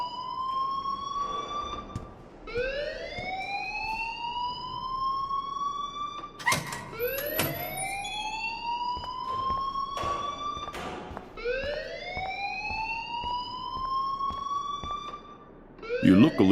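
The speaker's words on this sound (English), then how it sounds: "please turn off that alarm since that's your job" An alarm in the video game Life Is Strange rings in repeated rising whoops, each a few seconds long, continuing steadily at moderate loudness, broken by a couple of sharp knocks and with voices talking over it.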